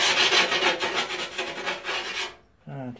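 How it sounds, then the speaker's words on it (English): A dressing stone, normally used for sharpening chisels, files the edge of a piece of toughened, tempered glass in a steady, close, gritty rasp of repeated strokes. It stops abruptly, followed by a brief voice. "I'm just going to use my dressing stone, which is something you'd normally sharpen a chisel with"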